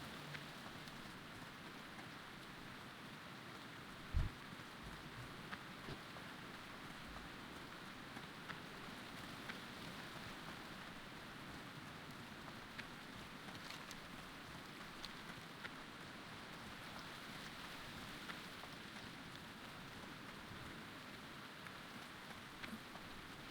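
Steady rainfall in Durotar, an orc zone in the Turtle WoW game, a dense even hiss that holds at a constant level throughout, with a single soft thump early on and no voices.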